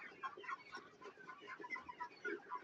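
Several desi (free-range) hens cluck softly and continuously nearby on a farm in hot summer weather, a busy, overlapping murmur of short calls at low volume.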